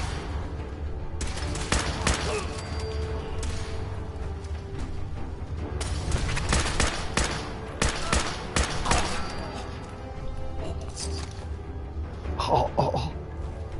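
Gunners open fire in the video game Fallout 4, with rapid, loud bursts of automatic gunfire and single shots that come in clusters, separated by brief lulls.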